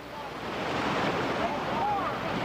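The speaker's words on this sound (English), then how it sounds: "The force of the tubes, the water, just pounding out of that dam right there creates a monstrous eddy." Loud rushing river water pounding out of a dam and churning a large eddy, a steady broadband roar with wind buffeting the microphone, heard from close by.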